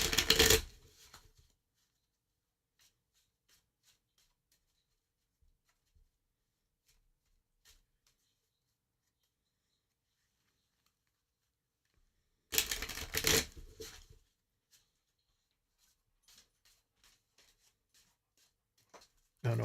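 A deck of cards shuffled during a live card reading, heard as two short riffling bursts far apart, with long quiet gaps between them holding only faint ticks.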